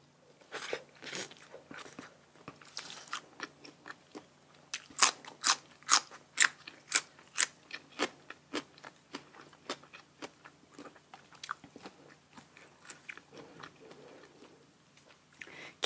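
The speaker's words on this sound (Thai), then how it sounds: "กินฮอดลูกชิ้นปิ้งหน้าโรงเรียนนะจ๊ะ" Loud, close crunching and chewing of grilled pork balls, eaten off skewers with fresh vegetables, in a steady rhythm of bites that quickens mid-way and then slows, with no talking.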